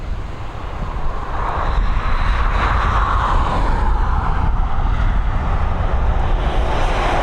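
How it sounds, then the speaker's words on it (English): Aer Lingus ATR 72-600 turboprop at Dublin Airport gives a steady broadband engine roar that builds slightly, heard from a distance with some wind noise and no talk. "we're heading to Liverpool now with this ATR 72-600 series"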